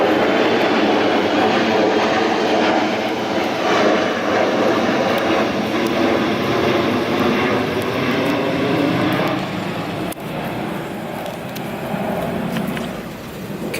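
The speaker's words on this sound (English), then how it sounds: "The plane is super close." A jet airplane passes very close overhead, a loud, sustained roaring rush filling the whole stretch and easing slightly near the end, with no talking.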